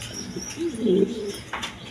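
Coloring Rajgolla pigeons, a big-sized pair, give soft, low coos at close range, one short call followed by a longer rolling one in a quiet space.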